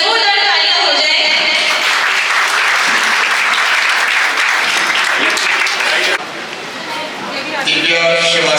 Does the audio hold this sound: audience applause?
yes